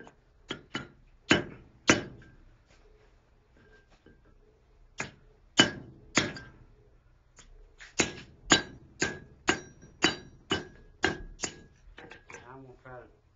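Hammer blows on metal as a fishing gig is bent into shape, sharp ringing strikes in irregular bursts, then a steady run of about a dozen evenly spaced hits, close and fairly loud.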